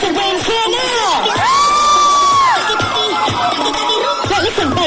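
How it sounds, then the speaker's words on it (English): A live audience at a competition event in Dubai cheers, whoops and shouts loudly and continuously for nearly five seconds, with a sustained high-pitched yell rising above the crowd mid-way. "if you think team 1 myself should win, cheer now!"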